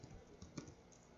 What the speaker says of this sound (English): we're going to type our domain name